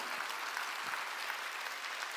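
Congregation at a church sermon applauding, a steady dense wash of clapping from many hands that holds even throughout, with no speech over it.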